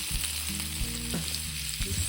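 Seasoned ingredients sizzle steadily in a hot pan with garlic powder and ginger powder, stirred around, with no voices and a constant frying hiss throughout.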